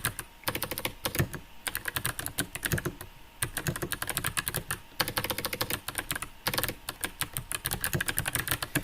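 Rapid, steady keystrokes on a Bluetooth computer keyboard, close and crisp, in quick bursts separated by brief pauses, with no voices.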